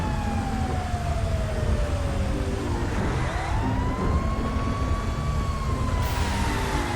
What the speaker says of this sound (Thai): แม่ชอบไฟหวอเขาจริงๆ ฮะเท่มาก